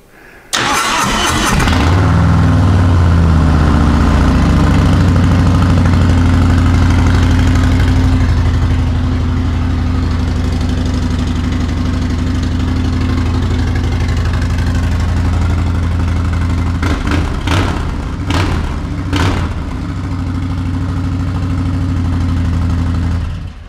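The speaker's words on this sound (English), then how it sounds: "Let's see what a cold start sounds like with a Two Brothers 2-into-1 Shorty." Cold start of a motorcycle fitted with a Two Brothers 2-into-1 Shorty exhaust: a starter whir catches into a loud, steady idle that holds on, with a few sharp blips of the throttle near the end.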